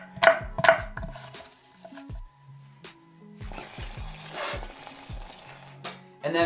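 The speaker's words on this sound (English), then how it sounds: "So now I'm just chopping up some apple." Knife strikes on a cutting board while chopping an apple, a series of irregular sharp chops close by, with quiet gaps between bursts.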